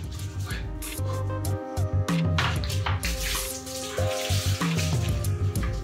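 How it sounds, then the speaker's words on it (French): Water from a shower runs in a South African bathroom during a drought, a loud hiss of spray broken by clunks and handling noises, alone without talk. "Voici la douche, version jour 0."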